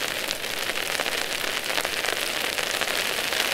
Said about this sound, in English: It's freezing rain.